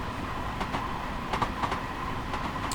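Rail wheels rumble continuously on track in a train video game, a dense even roar broken by sparse clicking joint beats, loud and close with no talking.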